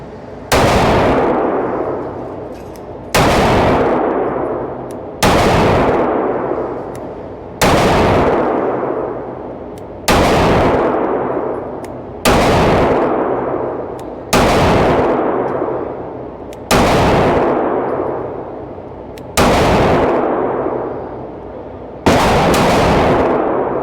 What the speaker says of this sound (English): I'm gonna shoot these last 20 rounds